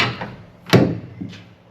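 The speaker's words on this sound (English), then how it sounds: "I'm going to open the door a bit." A Power Wagon truck door is opened in a workshop during bodywork sanding, giving a sharp latch click followed by a softer creak and a second faint knock, close by with no talking.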